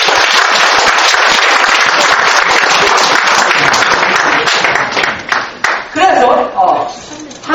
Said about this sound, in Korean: 함께 하시면 박수 한번 치세요.